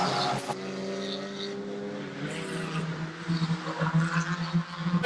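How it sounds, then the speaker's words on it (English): Stock cars racing and jostling for position, with engines droning and revving as the pack passes, rising into louder fluttering roars toward the end. "as number 1, Nick Ford, does his best effort to overtake Josh French"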